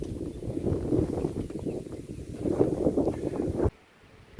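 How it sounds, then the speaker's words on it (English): Outdoor wind in a village in Mauritius buffets the microphone with loud, low rumbling gusts for several seconds, then cuts off abruptly into near quiet. "it's a little bit windy"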